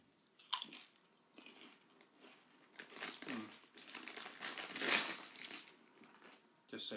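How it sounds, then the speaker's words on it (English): Hand cooked British chili potato crisps being crunched close to the mic, with sharp irregular crackling bites and chewing bursts spread across the stretch, fairly quiet overall. "Hear the crunch?"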